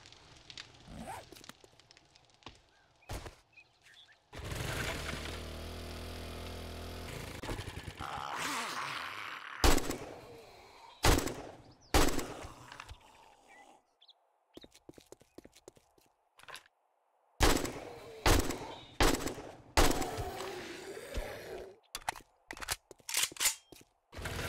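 Gunshots in the survival game 7 Days to Die, several sharp, loud reports fired singly and in short bursts. Quieter stretches of ambient game sound and footsteps fall between them, and a long droning buzz runs through the middle.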